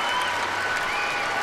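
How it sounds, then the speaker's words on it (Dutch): Steady applause from an arena crowd at the 2010 World Championships men's pommel horse final, greeting a British gymnast's routine; broad, even clapping fills the whole stretch at a moderate distance with no break. "Zelfs Berki, de Hongaar, geeft een applaus."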